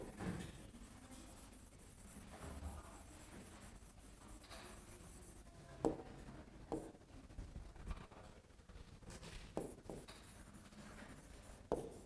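Chalk or marker writing on a board during a lecture, a soft scratchy rubbing with occasional sharp taps and strokes, faint against quiet room ambience.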